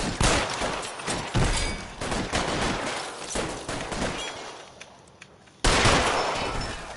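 Dense, rapid gunfire from a PS4 video game crackles in continuous bursts, with a brief lull before a loud volley resumes near the end.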